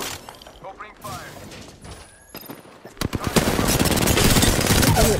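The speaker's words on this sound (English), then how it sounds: "Opening fire." Rapid automatic gunfire from an Apex Legends match, sparse shots at first, then a loud dense burst of sustained firing with crashing impacts.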